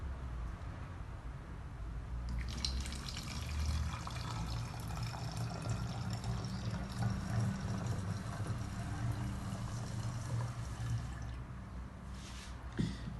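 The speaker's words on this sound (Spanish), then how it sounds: "vamos a vertir el agua en la botella." Slightly cooled water pours steadily into a bottle for a gas-law demonstration, a continuous gurgling trickle lasting several seconds before tapering off.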